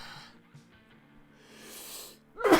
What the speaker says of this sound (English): I gotta sneeze out.